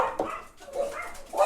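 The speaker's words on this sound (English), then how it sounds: "So there's a dog." A dog barks a few muffled, short times indoors, close and moderately loud against a busy room background.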